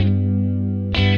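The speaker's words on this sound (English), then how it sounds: "Add some doubled guitars." Doubled guitars layered into an unmixed lo-fi beat, a brief distorted, chorus-washed chord held steadily with a second strum near the end, loud and alone.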